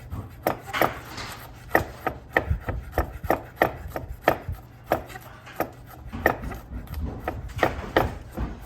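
A knife chops garlic steadily on a cutting board, a quick series of sharp, close taps with brief pauses between bursts.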